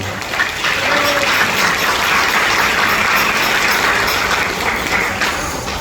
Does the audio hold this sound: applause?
yes